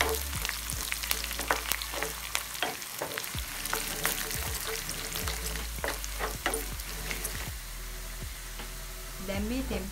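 A tempering fries in hot oil for a Sri Lankan breadfruit curry, sizzling loudly and steadily up close, with frequent spoon scrapes and clanks against the pan.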